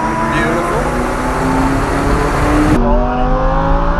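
A Lamborghini or McLaren sports car on a race track holds a loud, steady engine drone that rises in pitch under acceleration, then shifts to a lower note partway through as it changes gear.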